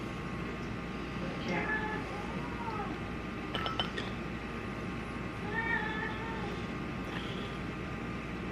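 A small cat meows a few times in a home kitchen, the short cries rising over steady background hum with a person's voice nearby.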